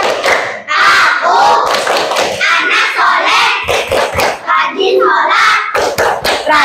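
Children in a classroom chant the rhythmic tepuk anak soleh clap routine, their voices loud and close over steady patterned hand claps that run throughout.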